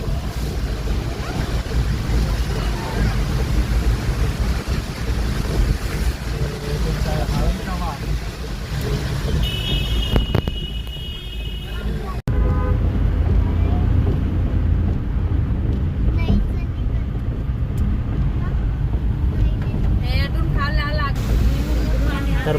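Heavy monsoon rain and gusting wind roar steadily outside a flooded building beside the Indrayani River, a dense broadband wash with a voice speaking over it.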